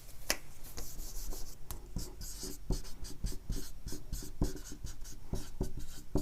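Marker writing on a classroom board during a biology lecture, a steady run of squeaky, scratchy strokes and taps close by, with no talk.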